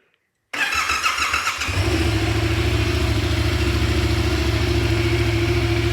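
Yamaha MT-07 parallel-twin motorcycle cranking over and firing up in a garage, the starter whir giving way to a deep, steady, throaty idle close by.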